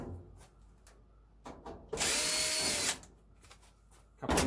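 A power drill spins out screws from a Samsung dryer panel in one sustained whir of about a second, with quieter clicks and handling around it and a brief second burst at the end.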